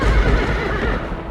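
A horse neighs loudly and close by, a drawn-out whinny with rising and falling pitch, with a faint clip-clop of hooves underneath.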